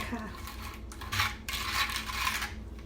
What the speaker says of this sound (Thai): คนให้น้ำตาลทรายกับน้ำพริกเผาละลาย